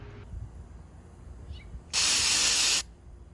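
A single burst of aerosol cleaner spray onto a mass airflow sensor hisses loudly for just under a second, set against quiet background noise.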